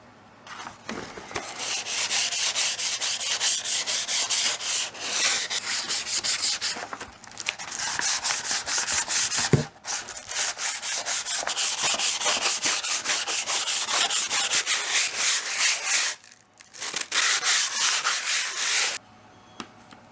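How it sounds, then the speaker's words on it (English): Rusty metal of a 37-year-old Crosman 1377 air pistol being rubbed down by hand, a steady loud abrasive scrubbing in long back-and-forth strokes with brief pauses between bursts. "I'm going to slightly rub it down and then re-blue it."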